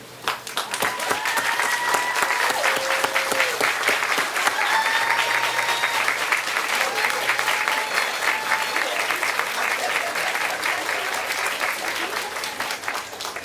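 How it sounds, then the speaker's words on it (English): Sustained applause fills a commencement ceremony for an adult education school in Washington DC, steady dense clapping from a large standing audience, loud and continuous throughout with a few faint background voices. "offer them a round of applause"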